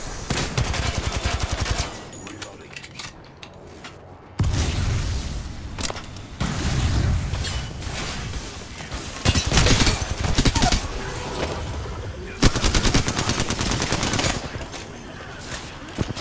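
Apex Legends gunfire arrives in rapid automatic bursts and loud single shots, broken by brief quieter gaps over roughly sixteen seconds, dense and close throughout.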